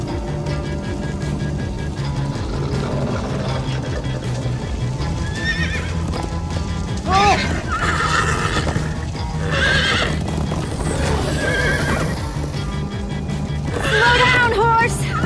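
Horse in the Minecraft Story Mode video game neighs and whinnies several times over a steady clip-clop of galloping hooves, mixed with game music and bursts of character dialogue.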